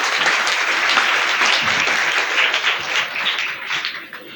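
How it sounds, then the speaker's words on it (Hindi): A church congregation claps loudly and continuously during Sunday Holy Mass at St. Joseph's Parish, a dense wash of applause that eases slightly toward the end. "भरपूर तालियों में उनका शुक्रिया अदा करते हैं।"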